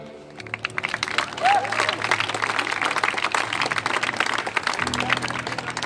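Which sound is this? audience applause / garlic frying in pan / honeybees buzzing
audience applause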